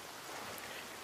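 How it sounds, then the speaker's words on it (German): Steady rain falls in the survival game The Forest, a soft, even hiss of drops spread across the whole moment with no voices over it. "Oh, es regnet."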